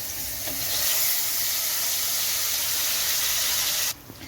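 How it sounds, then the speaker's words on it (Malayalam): Coarsely ground masala frying in hot oil for chicken fry, a loud, continuous close sizzle with steady hiss that drops off abruptly near the end, no talk. "ഇനി നമുക്കിത് നന്നായിട്ടൊന്ന് പച്ചമണമൊക്കെ മാറുന്നിടം വരെ നമുക്ക് എണ്ണയിലിട്ടൊന്ന് മൂപ്പിച്ചെടുക്കാം"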